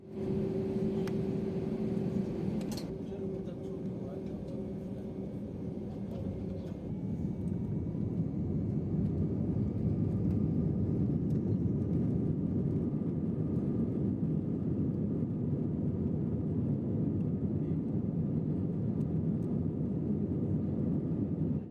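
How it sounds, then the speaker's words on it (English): A South African Airways airliner taxis for departure from Johannesburg at night, its engines a steady low rumble and hum heard from inside the cabin, with a brief tone early on. "Pushback started on time and soon we taxied for departure to Zambia."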